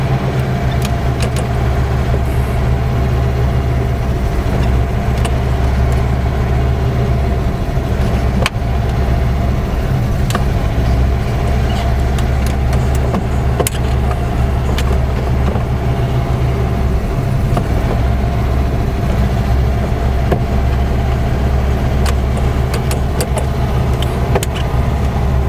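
A 1955 Plymouth Savoy's engine runs while the car is driven after decades of sitting, giving a loud continuous low rumble close up with a few faint clicks throughout.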